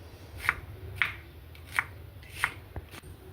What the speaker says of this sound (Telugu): ఇగో ఇట్లా తరుక్కోవాలి.